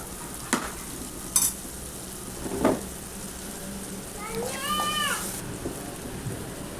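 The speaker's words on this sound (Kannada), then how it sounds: "ಈಗ ಎಲ್ಲ ಚಂದ ಫ್ರೈ ಆಗಿದ್ರಿ ಬಟಾಟ ಹಾಕೊಂಡು ಕಲಿಸ್ಕೊಳಂತ್ರಿ" Boiled potatoes are stirred into chili, turmeric, salt and coriander powder frying in a pan, with soft scraping and sizzling, a few sharp clinks, and a brief faint voice partway through.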